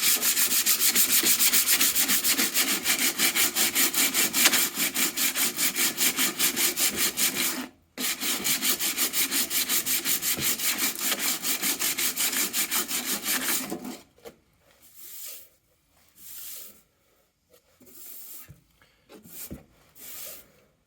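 Continuous rhythmic sanding scrapes against a painted wooden top box as old layers of yellow paint come away, steady rapid strokes for about fourteen seconds with one short pause, then several scattered softer rubs.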